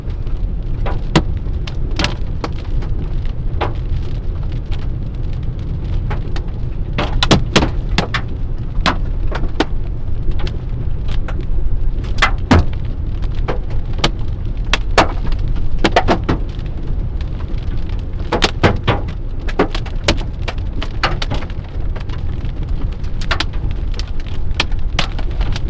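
Hail drums steadily on a storm chaser's car during a Colorado tornado-threat storm. A dense hiss runs throughout, and sharp, irregular clicks of larger stones crack against the body and glass. No one speaks.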